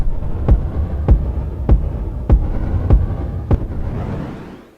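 A kick drum processed with a Comet CV-driven sidechain effect thumps six times at a steady, even pace, each hit followed by a pumping swell of a droning synth bed that fades out at the end.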